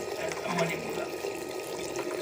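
Water pours steadily in a continuous splashing stream, moderately close, with voices talking faintly over it.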